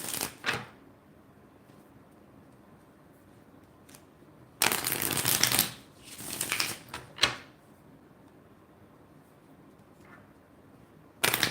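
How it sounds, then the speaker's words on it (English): Tarot cards shuffled by hand in bursts, with a long riffling flurry in the middle and shorter rustling snaps before and after, close and fairly loud over quiet room tone, no talking. "Getting a lot of shuffling."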